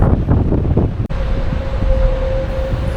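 Strong wind buffets the microphone at the port of Saint Malo, a loud roaring rush with a sharp dropout near one second and a faint steady tone from a ferry underneath.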